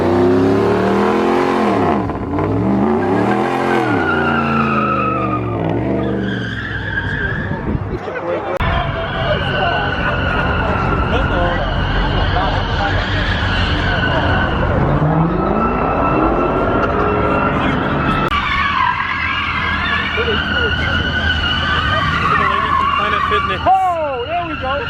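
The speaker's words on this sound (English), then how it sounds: "A double burnout over there" A Subaru does a double burnout, its engine roaring and revving while the tyres squeal and skid continuously, loud and close throughout, with pitch swoops as the car spins.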